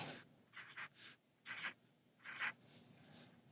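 A pen draws small bolt details on paper for a rocket ship drawing, making a quiet series of short scratchy strokes in an uneven rhythm, close up, with no talk.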